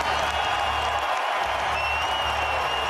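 A basketball arena crowd at the 2003 NBA All-Star Game cheers and applauds as a steady, dense roar of mixed voices and clapping, heard at a distance with no single voice standing out.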